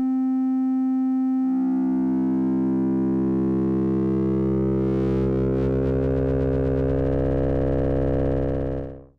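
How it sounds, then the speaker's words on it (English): A Korg volca Modular holds a steady electronic tone that starts pure, then grows a buzzy, metallic edge as FM synthesis is dialed in, the rising harmonics thickening into a rich, gritty drone before it cuts off cleanly. "Then there's FM synthesis that we can add in."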